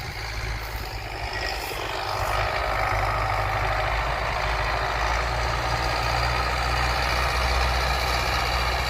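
Tractor engine running steadily while discing a garden plot ahead of ploughing, a continuous low heavy rumble that holds at constant loudness throughout, with no talk.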